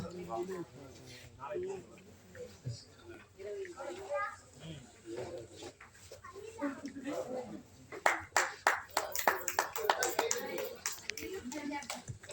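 Clapping at a felicitation ceremony in Chennai, scattered claps joining in over talking and children's voices, then building into a denser burst of applause near the end.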